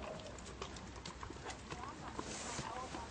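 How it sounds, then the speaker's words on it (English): A horse moving around on a longe rope during groundwork training, its hooves clip-clopping steadily and close by amid continuous background noise. "Now if that rope hits that horse, it'll move out of the way."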